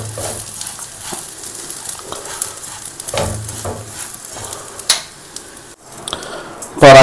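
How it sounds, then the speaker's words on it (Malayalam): Rice and spices frying in ghee and oil in a pan for Malabar-style ghee rice, a steady soft sizzle broken by several scraping stirs of a spoon, close and clear with a louder clatter at the end. "ഈ റൈസും ഈ പറയുന്ന മസാലകളും ചേർത്ത് ഒന്ന് നന്നായിട്ടൊന്ന് മിക്സ് ചെയ്തെടുക്കുക"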